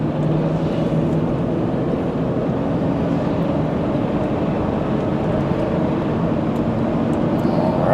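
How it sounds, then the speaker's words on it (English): A silver 2004 Ford Expedition XLT 4x4 drives along a road, its engine and transmission giving a steady low cabin drone with road noise, unbroken and without speech. "So I'll be quiet and listen to the motor and the trans."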